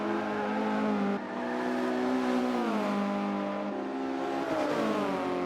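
A Volkswagen Scirocco and a BMW race in Forza 5, their engines droning and revving loudly with steady pitch shifts as they shift gears, close and continuous without talk.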